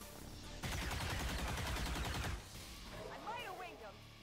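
Gunfire from the turn-based strategy game XCOM 2 fills the middle of the moment, a loud dense burst of shots lasting nearly two seconds, followed by quieter game sounds after it cuts off.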